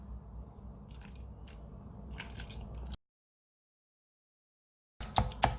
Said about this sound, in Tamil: இப்போ இதை நல்லா மசிச்சு விடணும்.